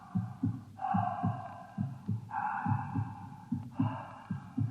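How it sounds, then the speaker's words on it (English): Science-fiction radio drama effect of an alien creature's oxygen plant breathing: a steady throbbing low pulse like a heartbeat, with long wheezing tonal swells rising and falling roughly every second and a half, close and moderately loud. "I believe that's a respiratory sound, sir, made by the creature's oxygen plant."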